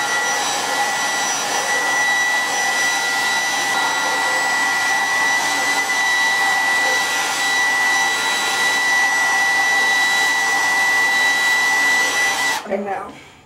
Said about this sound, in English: You're just going to put your blow dryer on high.